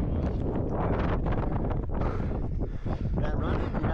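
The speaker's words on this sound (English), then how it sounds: "You get on these peaks, and it's blowing hard." Strong gusting wind on a hilltop near Mesquite, Nevada buffets the microphone in a loud, roaring rumble, with a voice partly audible underneath.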